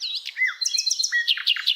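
A small bird caught in a net chirps rapidly in high, quick bursts of tweets, close and clear, with no other sound around it.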